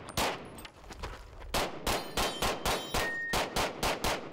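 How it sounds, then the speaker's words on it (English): Rapid gunfire from a competition shooter on a course of fire: a few scattered shots, then a fast, evenly spaced string of sharp, loud reports close by, with no talking. "He's just shooting,"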